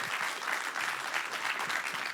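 An audience at a collegiate championship finals event breaks into applause, a continuous wash of many hands clapping at moderate level, slightly distant, sustained without speech for the whole stretch.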